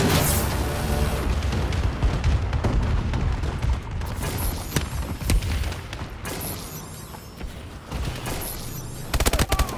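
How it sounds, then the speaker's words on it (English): Friendly bombing-run explosions tear through an online Hardpoint match on the Solar map in Call of Duty: Advanced Warfare. Dense, loud booms and gunfire-like crackles pile up continuously, with heavier blasts near the middle and a final burst at the end. "Friendly bombing run incoming."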